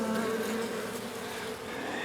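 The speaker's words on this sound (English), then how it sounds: "These little sneaky bees are probably trying to drill a hole underneath" Honeybees buzz steadily around a trap-out box, a close continuous hum with several overlapping wingbeat tones and no voices.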